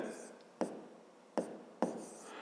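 A math equation is handwritten on paper, soft faint scratching strokes broken by three sharp taps as the pen lands, quiet and close with no talking.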